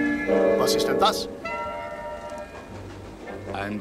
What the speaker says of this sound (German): Bei der Eisenbahn gebräuchliches Haltezeichen